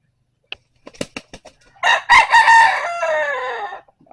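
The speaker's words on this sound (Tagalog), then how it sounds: "Yan, alaga kong manok." A rooster crows loudly and close by, a long drawn-out call that follows a few short clucks and taps.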